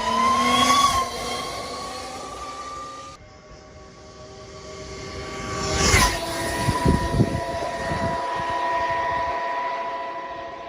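DIY electric motorcycle riding past, a tonal whine with layered harmonics that rises and falls, swelling to a loud peak around the middle and then settling into a steadier hum, with no voices.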